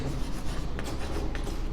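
A pen or marker scratching out a trigonometry solution about a right triangle, a close, continuous scratchy rubbing with short stroke bursts and no talking over it.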